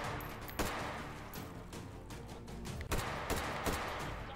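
Gunfire in the VR shooter Hot Dogs Horseshoes & Hand Grenades: a handful of sharp shots crack out, spaced irregularly over a low background hum, fairly faint overall.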